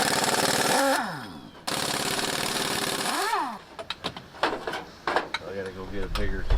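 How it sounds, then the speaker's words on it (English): Pneumatic impact tools on a 1976 Chevrolet C10 squarebody pickup hammer loudly in sustained bursts, then give way to sharp clanks and rattles of metal parts and sockets, all close by. "So I got to get the air tools out because they're stuck."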